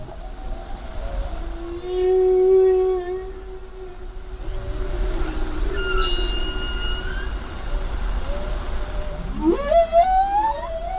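Humpback whale song: long tonal moans and drawn-out cries, with a high rising whoop near the end, carried over a steady low underwater rumble and heard on its own without talk.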